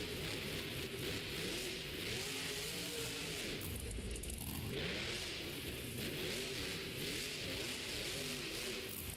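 Monster truck engines roar and rev during a Monster Jam Stadium Series run in Oakland, loud and continuous, the revs swelling and dipping against a dense wash of arena crowd noise.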